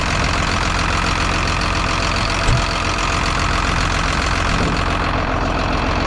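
A JCB Teleskid 3TS-8 skid steer loader's engine runs loud and close at a steady rumbling idle, with one brief knock partway through, on a farm used for scraping manure.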